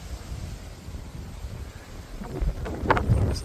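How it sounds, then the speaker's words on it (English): Gusty wind blows outdoors in a garden on a stormy spring day, a low steady rumble against the microphone that swells into stronger gusts near the end. "And that is the wind is picking up. It's getting very gusty."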